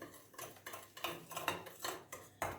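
Spoon stirring sugar in a bowl for a pastry dough, a series of quick metallic scrapes and clinks against the dish, close and moderately quiet, with no voices.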